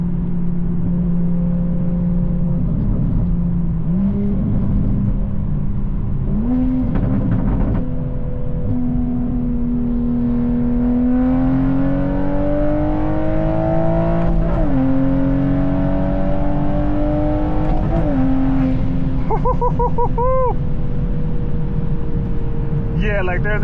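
A 700hp Toyota Supra accelerates hard from inside the cabin, its loud engine note rising in pitch, dropping at quick gear shifts and climbing again, continuous throughout.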